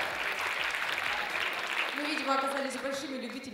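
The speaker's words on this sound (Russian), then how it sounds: "ваши аплодисменты" Audience at a KVN comedy show in Novosibirsk applauds steadily and loudly throughout, a dense wash of clapping with a host's voice and tonal sounds rising over it in the latter half.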